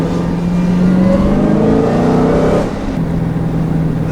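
Supercharged 6.2 liter pushrod V8 of a 2016 Dodge Challenger Hellcat with six-speed manual, revving loud and close with rising engine tones and an overlaid blower whine, easing off near the end.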